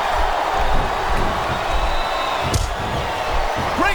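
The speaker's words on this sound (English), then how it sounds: "It sounds like this capacity crowd has something on their minds, Taz." A large arena crowd in the wrestling video game WWE SmackDown vs. Raw 2007 produces a dense, sustained roar, loud and continuous, with occasional louder thuds rising out of it.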